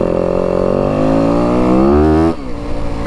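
A 2025 Yamaha WR 250F dirt bike engine under way, loud and close, its pitch climbing steadily as it pulls in gear before dropping sharply off the throttle, then idling lower.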